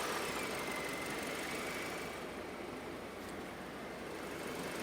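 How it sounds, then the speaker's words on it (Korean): A car engine runs at a held 2500 rpm with headlights, air conditioning, blower and heater loaded for a charging system check, a steady, continuous drone with no pauses and no voices. "엔진의 회전 속도를 2500rpm으로 증가시켜줍니다"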